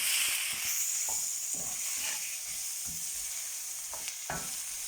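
Tomatoes with chili and salt frying in a pan for a Bengali-style black chickpea snack, a steady hissing sizzle with soft scattered stirring knocks, no talking.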